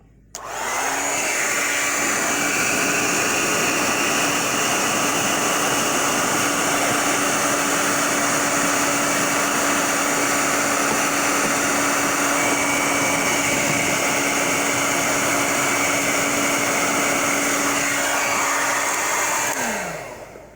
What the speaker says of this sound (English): I have a blow dryer here